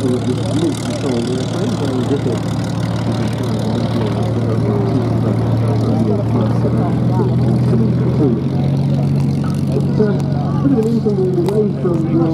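A Cosmic Wind air racer flies a display at a VE Day anniversary air show at Duxford, its engine a steady droning hum that rises and falls slightly as it passes, with crowd chatter and a loudspeaker commentator under it.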